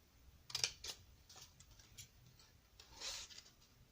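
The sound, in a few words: scissors cutting a small strip of paper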